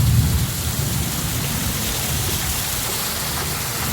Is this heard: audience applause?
no